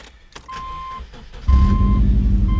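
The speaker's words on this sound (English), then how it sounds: "What a sweet running little car this is." A high-mileage Subaru Legacy at 240,000 miles, being cut into a convertible, starts up and idles in a steady low hum, close by with a faint electronic chime, and no talking.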